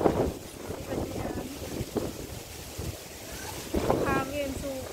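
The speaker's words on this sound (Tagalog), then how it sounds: "Hangin, super." Strong wind buffets the microphone at a seaside park in Manila, a steady roaring gust with surf-like rumble throughout, with brief voices and faint tonal squeaks near the end.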